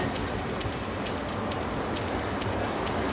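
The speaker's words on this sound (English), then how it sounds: "This is our train." A train runs steadily on its rails with a loud, continuous rumble and faint rhythmic clatter of wheels over the track, filling the whole stretch with no voices.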